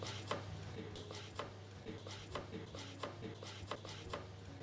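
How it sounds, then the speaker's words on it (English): A knife chops vegetables for a sweet potato, ginger and coconut soup, giving a quick run of sharp, evenly spaced taps on a cutting board over a low steady hum, with no talking. "I'm now going to chop up my vegetables"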